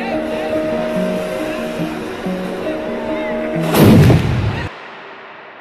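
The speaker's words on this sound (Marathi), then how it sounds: "आज दसरा आहे तर ॲक्च्युली तोफ वाजवली" A cannon fires at a village Dussehra festival in Shirol: a single heavy, roaring boom bursts out loudly after a stretch of crowd noise and talk, then fades into quieter background.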